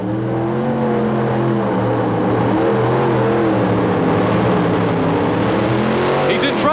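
A modified pulling tractor's engine roars at full throttle, loud and close, its pitch climbing and wavering through the pull, while a commentator talks over it.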